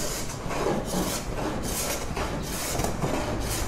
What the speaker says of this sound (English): and I will sand that one as well